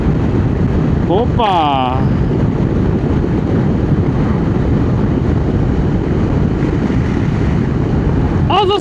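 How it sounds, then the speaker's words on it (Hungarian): Strong wind roars steadily against a microphone while riding a motorcycle along the Atlantic Road in Norway, a dense, loud rush throughout, with a voice briefly exclaiming near the start and end. "Na de a szél is kezd elég combos lenni."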